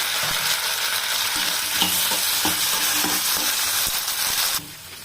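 Steady loud sizzling of eggplant frying in a pan, with scraping stir strokes throughout; the sizzle drops off near the end.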